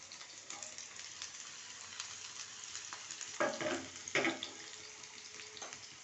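Onion dropped into hot oil for a dal tempering, with a steady quiet sizzle and two louder bursts of crackling as pieces go in.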